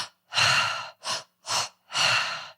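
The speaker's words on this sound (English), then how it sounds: "So it's 2 quick in-breaths and then exhale like" Pranayama breathing drill done by a person: two quick, sharp nasal in-breaths followed by a long exhale, then another quick breath pair starting, close and clear with no talking.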